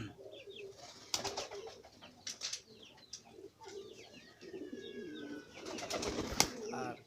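Pigeons coo and chirp at a turkey farm in Kashimpur, Gazipur, with soft calls and brief wing flutters repeating over a busy background. A sharper burst of activity comes near the end.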